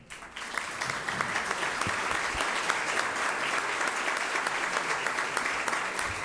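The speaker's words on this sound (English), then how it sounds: "please keep your applause going" An audience at a business event applauds as a utility company CEO is welcomed to the stage, a full, even roll of clapping that starts quickly and holds steady throughout.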